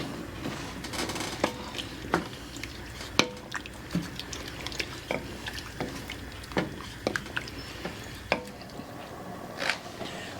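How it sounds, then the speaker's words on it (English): A spoon works through thick home-style dinner chili in a pot, giving irregular wet squelches and sharp clinks against the metal sides, spaced a second or so apart, close and fairly clear. "Give it a stir."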